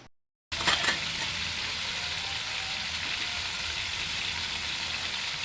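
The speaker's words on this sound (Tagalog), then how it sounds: "Ito muna ang ipiprito natin guys." Chicken pieces frying in a pan for chicken bistek, a steady close sizzle that starts abruptly after a brief silence and holds evenly throughout.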